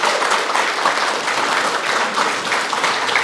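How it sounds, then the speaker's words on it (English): A crowd at a Miss Samoa NSW pageant event applauds the contestants, a loud, dense burst of clapping close by that holds steady throughout. "can we get applause for all the girls if that's okay?"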